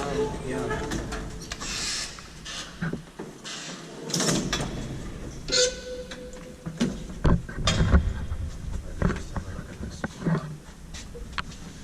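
1933 Kone traction elevator in a school building, its doors and mechanism producing clunks, slides and mechanical knocks close by, with people talking throughout.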